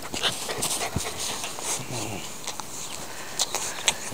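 A dog out on a walk on a windy day, heard near with panting, faint whimpers and scuffling steps against a blustery outdoor background.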